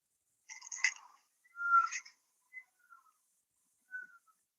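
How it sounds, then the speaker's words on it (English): Peacocks calling outdoors: a few short, high, wailing cries in quick succession followed by fainter, brief calls, clear against a quiet background. "Hear those peacocks?"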